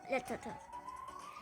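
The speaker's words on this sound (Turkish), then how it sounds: "Arkadaşlar ambulans sesi geliyor arka," An ambulance siren wails from somewhere behind, a thin rising tone sliding steadily upward beneath a burst of nearby talking.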